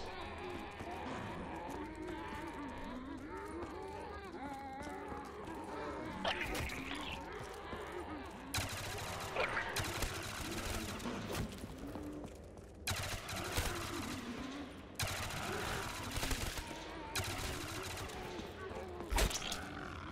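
Bursts of gunfire in Black Ops 3 Zombies, loud sharp volleys arriving in several separate clusters over a busy backdrop of game sound, with someone talking at points throughout.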